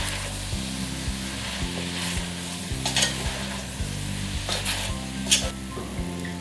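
Beef sizzles loudly in a pot of Cameroonian garden egg stew, a steady bright frying hiss with occasional scrapes and clatters of stirring, set over a low repeating background tone.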